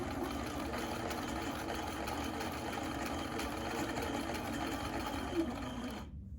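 A sewing machine stitches along a line on a fabric mask, a steady continuous motor whir running close and even for several seconds, then cutting off abruptly near the end.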